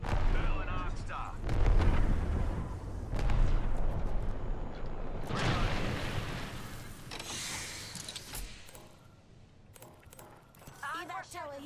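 Arc star grenades going off in a video game, with repeated sharp electric blasts and crackling bursts mixed with gunfire and game effects under voiced character callouts.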